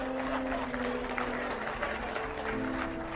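An audience claps together in a steady, full burst of applause filling the room throughout.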